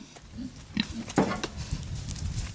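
Young pigs born in a research laboratory grunt and oink softly in short, scattered calls, fairly close by, with no one speaking.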